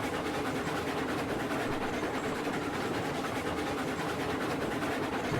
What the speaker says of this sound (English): Train man's doing a good job nursing this engine up the hill.